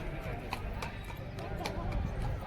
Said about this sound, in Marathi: मध्येच ही घोडा आला होता